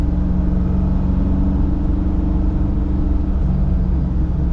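C5 Corvette Z06 with a stock exhaust, a steady, loud, low engine drone heard from inside the car, with a slight rise in revs partway through.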